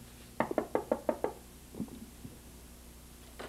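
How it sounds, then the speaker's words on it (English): Six quick knocks on a front door sound in a steady, evenly spaced burst, followed by a few fainter thuds and a brief knock near the end, in a quiet outdoor setting in Newhall. "So I thought we'd just knock on the door and see if Tom's home."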